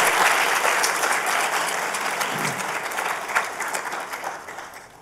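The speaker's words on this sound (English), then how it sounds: "Please give Kristen a round of applause" An audience at a university student project showcase breaks into loud, sustained applause for a student, a dense crowd clapping that tapers gradually over five seconds.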